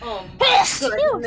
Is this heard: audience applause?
no